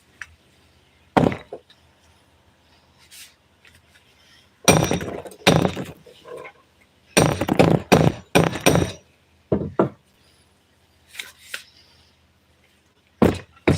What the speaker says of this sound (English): So that's why we're trying to hammer it in.